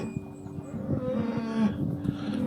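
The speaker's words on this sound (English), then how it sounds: "I thought they sounded like cows" Young cows moo at night beside a parked camper van in the UK, a few low drawn-out calls close by, with quieter lowing in between.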